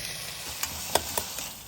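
Onions, green chillies and peas sautéing in a pan for soya chunks pulao, a steady soft sizzle with a few light scraping stirs from a spoon, close and alone with no talk.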